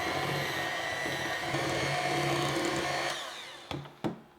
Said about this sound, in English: I'm going to use my hand mixer